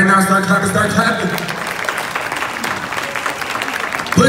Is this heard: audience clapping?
yes